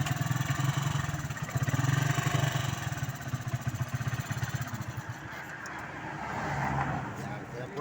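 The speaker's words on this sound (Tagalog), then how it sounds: "Ayan po, luma na po yung kanyang motor eh." An old tricycle motorcycle engine chugs nearby with a pulsing rhythm that rises and falls, while people talk over it.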